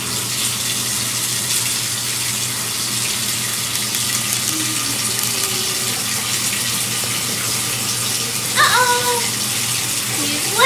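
Water washing and swishing steadily in a bathtub during a pet's bath, a soft, continuous gush at a moderate distance, with a few faint high chirps near the end and no talking.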